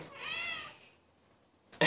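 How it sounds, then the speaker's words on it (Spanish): A cat meows in a kitchen, a drawn-out, slightly wavering cry near the start, then quiet before a brief, loud burst of noise at the end. "¡Ay, mi gatita!"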